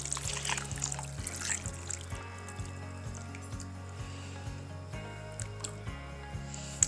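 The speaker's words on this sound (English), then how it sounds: "I pour it around the outside of the ham just so I'm not wiping off the brown sugar and the honey" Liquid is poured around a spiral ham glazed with brown sugar and honey in a crock pot, a soft trickling and splashing at the start that fades to quiet background hum.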